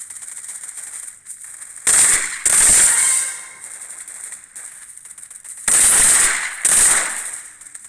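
Mortar bombs explode in the Combat Arena shooter, with loud sharp bursts landing in two close pairs amid quieter gunfire and game noise.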